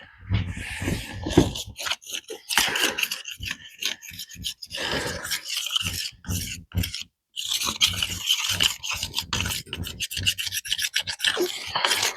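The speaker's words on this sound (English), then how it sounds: "I'm actually going to scrape this tire out real quick because it's just full of mud and debris" Mud and debris are scraped out of a Jeep tire in repeated rough rasping strokes with brief pauses, close and irregular, with no talking.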